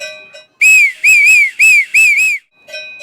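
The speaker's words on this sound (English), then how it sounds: "or for a whistle" A whistle, likely a homemade bushcraft tube type, sounds in four sharp, loud, close blasts with warbling pitch, framed by a fainter steady tone at the start and end.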